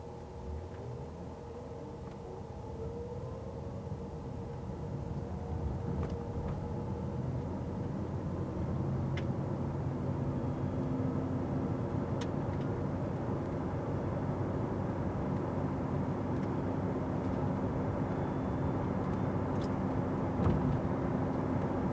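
A brown Fisker Karma with 27,108 miles pulls away from a stop. A low, steady mechanical hum and road noise build gradually and stay fairly quiet throughout.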